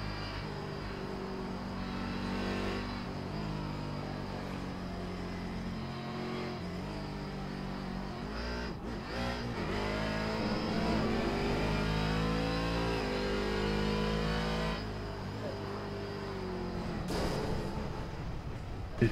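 A C7 DP prototype race car engine at Mosport in the iRacing sim hums and revs continuously, climbing and easing through corners with a brief dip near the middle, with no talking.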